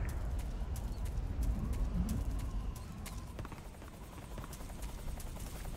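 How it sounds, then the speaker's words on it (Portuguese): A helicopter in the Metal Gear Solid 3 video game makes a steady, dense rotor drone with scattered sharp game effects on top, fairly loud and continuous with no talking. "mas tem um helicóptero ainda"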